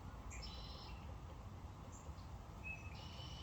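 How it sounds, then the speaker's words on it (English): Faint birdsong outdoors in a backyard: a few high chirps and short whistled calls scattered over steady low background rumble, no voices. "A lot of happy birds out there."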